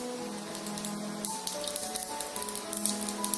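Mustard seeds splutter and crackle in hot oil in a pan while mushroom pallipalayam is cooked, giving a steady sizzle with quick popping ticks that grow busier toward the end.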